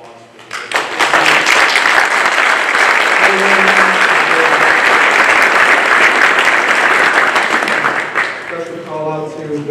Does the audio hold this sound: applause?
yes